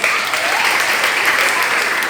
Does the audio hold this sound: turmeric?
no